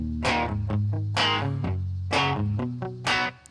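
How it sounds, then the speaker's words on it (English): Distorted electric guitar strumming a chord and then picking it out as an arpeggio, with several sharp attacks and ringing sustained notes, loud and alone. "He'll play a chord, but then he'll arpeggiate."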